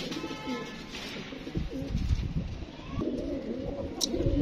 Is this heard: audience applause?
no